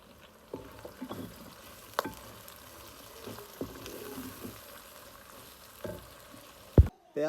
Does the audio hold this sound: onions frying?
yes